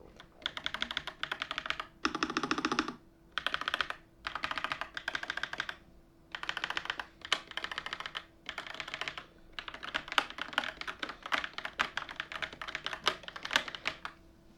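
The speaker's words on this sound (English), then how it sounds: "I'll press some keys so you guys can hear how it sounds like, to hear the switches" Keys clack on a YUNZII QL75 typewriter-style mechanical keyboard in several bursts of rapid typing separated by short pauses, close and crisp, with one deeper thump like a spacebar or larger key.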